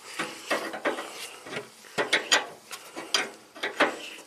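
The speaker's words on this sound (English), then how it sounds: "Let's undo the fitting and drain everything into the stinky pan right here." A wrench ratchets in quick, repeated clicks while a fuel line fitting is undone on a 1967 Triumph GT6 left parked since 1999, a steady rhythm of close mechanical clatters with no talk.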